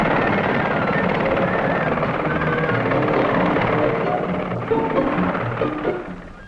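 Westland Whirlwind helicopter flying nearby in Aden in 1965, a loud, steady rotor and engine roar that holds throughout and eases slightly toward the end.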